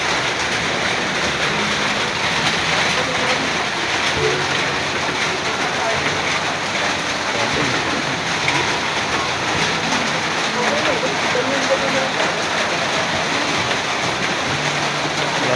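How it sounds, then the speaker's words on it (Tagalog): Heavy rain in Antipolo pours in a dense, steady hiss that stays loud and unbroken throughout, with occasional faint voices underneath. "Grabe ulan dito sa Antipolo."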